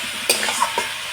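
A spoon stirs cabbage curry with a spoonful of sugar in a pan: a few soft scrapes and taps against the pan over a faint sizzle, close and quiet, with no talking.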